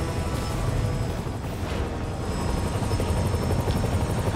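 A helicopter in a Spider-Man video game, its rotor thudding loud and continuous with a low rumbling chop and engine whine throughout, no voices over it.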